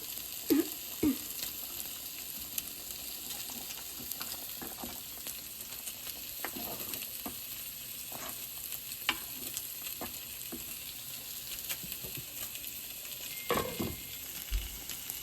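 Paneer coated in chili powder frying in a pan while being stirred, a continuous moderate sizzle broken by occasional scraping and tapping strokes of the utensil, close, with no talking.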